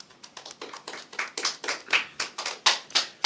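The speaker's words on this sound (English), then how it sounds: "Everybody give them a round of applause." Scattered hand claps from a small group at a recording and production listening party, a brief quiet patter of separate claps lasting a few seconds.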